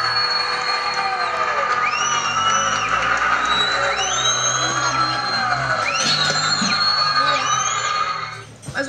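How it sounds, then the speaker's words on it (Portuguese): Fans of the Nevoeiros futsal team roar and whoop after a goal in a district cup final, a loud, dense crowd cheer with rising and falling shouts, continuous and close, dipping briefly near the end. "E a torcida dos nevoeirenses vibra"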